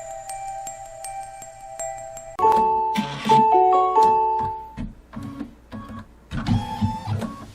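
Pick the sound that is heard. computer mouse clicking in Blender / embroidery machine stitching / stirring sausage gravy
embroidery machine stitching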